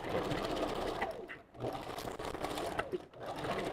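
A sewing machine back stitches on a custom glueless wig, running loud and close in a steady whir with two brief slowdowns.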